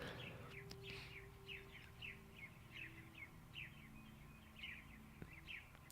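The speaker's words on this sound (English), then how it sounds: "It's just birds." Birds chirp outdoors in a steady series of short, bright calls, moderately near, repeating every half second or so over a low background hum, with no talking.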